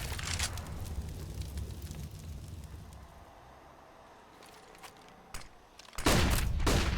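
Auto sniper gunfire in Counter-Strike plays amid match noise: scattered shot bursts early, a quieter stretch with a few sharp cracks, then a loud dense burst of fire near the end.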